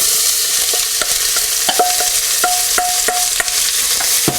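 Chopped onions sauté in olive oil in a Dutch oven on a Kamado Joe grill, a steady bright sizzle broken by repeated scraping stirs and clinks, close and fairly loud, with no talking.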